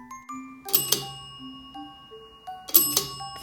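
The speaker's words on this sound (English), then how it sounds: "Here we have a meal bell." Two bright, close rings of a toy meal bell on a children's busy board, struck about two seconds apart, with soft tonal beeps in between and no talking.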